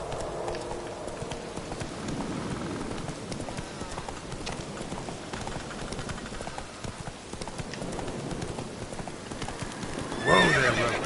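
Roach the horse from The Witcher 3 video game, hooves clip-clopping at a steady gallop close by, with a voice speaking over the hoofbeats and a whinny near the end.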